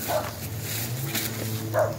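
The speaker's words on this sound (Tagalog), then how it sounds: "Sino ang paligid nila? May aso." A dog barks twice, short and somewhat distant, with a steady low hum of background noise between the barks.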